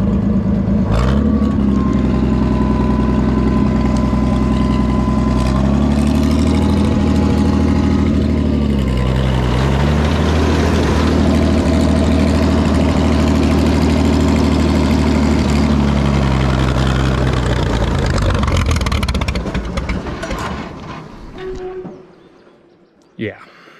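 Farmall 460 tractor engine running rough and starving for fuel, a loud, low close-up idle that surges and sags unevenly before dropping away near the end.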